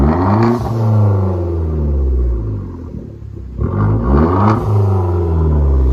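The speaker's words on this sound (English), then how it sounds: "You can hear the blow off valve." A Hyundai Genesis Coupe 2.0L turbo engine with straight pipes revs up and drops repeatedly, loud and close, with a brief whooshing blow-off valve release as the throttle closes between the rises.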